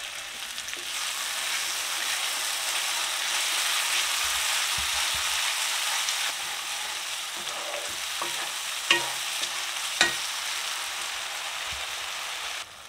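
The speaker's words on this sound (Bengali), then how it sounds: "এবার আমরা এর মধ্যে ম্যারিনেশনের যে মশলাটা ছিল সেটা মিশিয়ে দেব।" Marinated chicken masala for a leg curry frying in oil while being stirred, a steady close sizzle with scraping strokes and a few clacks near the end; no talking.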